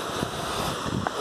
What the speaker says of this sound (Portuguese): Então essa aqui é a cachoeira